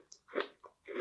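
Close, crisp crunching bites and chewing on a strawberry azuki crunch mochi snack, heard as a few quick crackly chews with short gaps between them, quiet and intimate with no talking.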